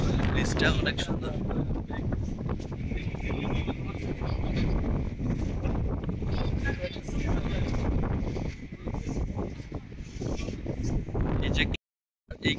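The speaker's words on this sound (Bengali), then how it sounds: "বাতাসের জন্য আসলে শুধু বাতাসের শব্দটাই শোনা যায়" Strong wind buffets the microphone on a glass-sided bridge at Qetaifan Island, Qatar, a steady loud roar through most of the clip with voices faintly under it and a brief drop near the end.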